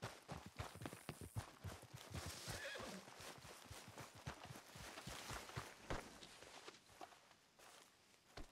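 A horse in Red Dead Redemption 2 whinnies amid a continuous run of clip-clopping hooves, the hoof beats quick and clear throughout, with the neigh standing out early on.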